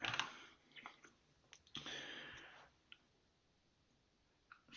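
Computer keyboard typing while solving a cryptic crossword, heard as scattered quiet clicks and short bursts of keystrokes with pauses, close and soft, with no talk.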